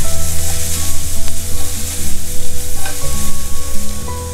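Vegetables brown in a hot pan for Thai-style noodles, a loud, dense, continuous sizzle with a low hum and occasional stirring clinks, close up and without speech.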